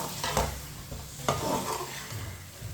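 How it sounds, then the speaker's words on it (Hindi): Spices being stirred in a pan over a low flame, a soft steady sizzle with a few scraping strokes of the spoon, moderately close and with no talking. "मसालों को अच्छी तरह मिक्स कर लेना है।"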